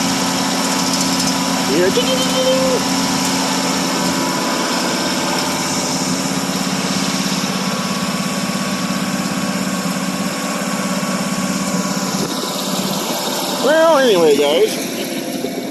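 A 1978 Pontiac Bonneville's 301 V8 idles steadily after a cold start in snow, a loud continuous drone with a faint whine and belt squeal, while someone talks over it near the end.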